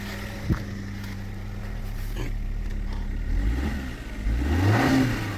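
A Chevrolet Captiva engine idles, then revs up with a rising, moderately loud whine toward the end, heard fairly close.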